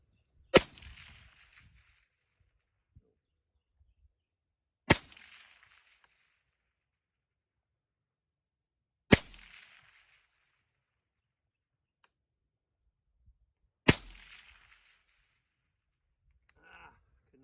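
An HK416 DMR rifle fires four single shots spaced about four seconds apart, each a sharp, loud crack with a short decaying tail, separated by near-silence and a few faint clicks.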